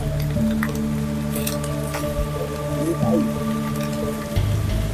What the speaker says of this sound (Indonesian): Hujan, hujan, tuh, tuh, tuh, hujan.